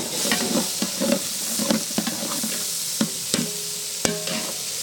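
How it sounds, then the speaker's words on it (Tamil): Green chillies frying in a pan, stirred with regular scraping strokes and clinks of a ladle over a continuous sizzle, close and fairly loud. "பச்சை மிளகாய் போட்டுக்கிறோம்."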